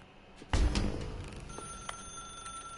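A telephone rings in The Stanley Parable, a thin sustained tone with a few brief metallic rings over a quiet room ambience after a soft thump, faint and without talk.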